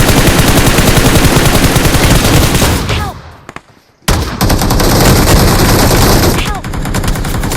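Rapid bursts of automatic gunfire from enemy players in BGMI (PUBG Mobile) crackle loudly in dense volleys, stop for about a second, then resume in sustained rattling fire, with players talking amid the shooting.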